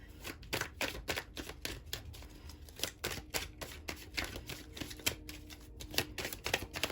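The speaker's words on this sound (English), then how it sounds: "I had to shuffle to the side in case the cards pop out" Tarot cards are shuffled close by but quietly: a steady run of soft riffling and clicking that keeps going throughout.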